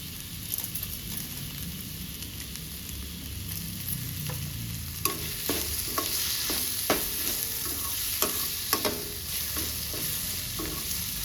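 Tomatoes with salt cooking down in a pan for a fish curry, a continuous sizzle under a run of sharp spoon scrapes and taps against the pan in the second half, close and without speech.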